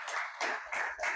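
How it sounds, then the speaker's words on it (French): Applause for Botswana from the audience at a CAN football press conference, a few short bursts of clapping, moderately faint and fairly close, with no talk over it. "On applaudit pour le Botswana, s'il vous plaît."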